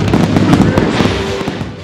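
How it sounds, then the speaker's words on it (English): Fireworks burst in loud, rapid crackling and popping volleys during a ship naming celebration on the upper deck of the Seabourn Sojourn cruise ship in London, continuous and close with no talking. "and more fireworks."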